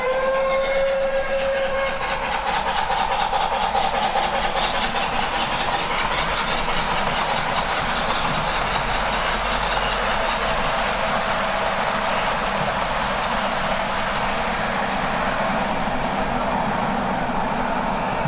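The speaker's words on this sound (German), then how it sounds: "Jetzt kommt hier auf der Gegenrichtung die Baureihe 41." A 1:32 scale model train with a class 41 locomotive passes on a large gauge 1 modular layout, giving a steady, close rolling rumble with faint clicking of wheels on rail joints, a brief tone near the start.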